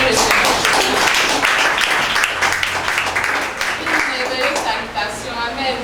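A church congregation applauds in praise, a loud, sustained wash of clapping from many hands, with voices calling out and speaking over it.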